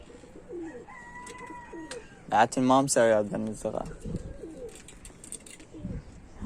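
Pigeons on a rooftop coo softly in the background while someone talks over them, with faint bird calls scattered through the scene.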